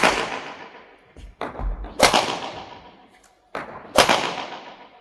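A badminton racket held with a three-finger grip strikes a shuttlecock in a few sharp, loud cracks, the last two pairs coming in quick succession, each followed by a short fading tail, with no talk.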